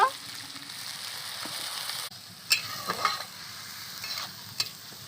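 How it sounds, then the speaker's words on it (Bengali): Spices frying in a pan for vegetarian aloo posto, a low steady sizzle with a few sharp scrapes and clicks of a stirring spoon, close and quiet. "মশলাগুলোকে ভালো করে কষে নিয়েছি এবার দিয়ে দেবো লঙ্কা গুঁড়ো"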